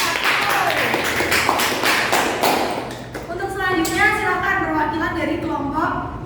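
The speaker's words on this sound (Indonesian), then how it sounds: "Tepuk tangan dong buat kelompok 1" Elementary school classmates clap for a group after its science lesson presentation. A burst of quick, uneven claps fills the first half, then a voice takes over.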